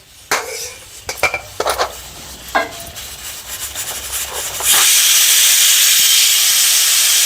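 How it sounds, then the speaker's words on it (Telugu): Puris drop into hot oil for pani puri: a few sharp knocks and scrapes of utensils come first, then a sudden loud, steady hissing sizzle as the dough hits the oil and keeps frying, close and without talk. "ఆయిల్ బాగా వేడైందండి ఇప్పుడు మనం పూరీలు వేసుకుందాం"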